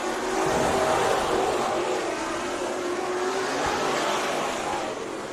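IMCA Northern Sport Mod race cars roar around the dirt oval at Bakersfield Speedway during a heat race, a continuous, distant engine drone with shifting pitch and no clear talk over it.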